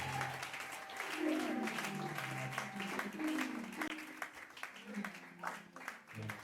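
A church congregation in Limété applauds the Lord Jesus during a sermon, a sustained wash of clapping hands filling the room while voices carry over it throughout.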